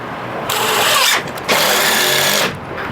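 A power drill driving a screw during a deck build whirs in two sustained bursts, the first short and the second longer, loud and close, with a brief pause between them.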